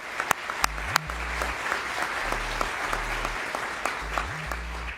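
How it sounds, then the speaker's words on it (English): An audience at a State Department human rights award ceremony applauds, continuous close clapping that holds steady throughout. "Let's give them a round of applause."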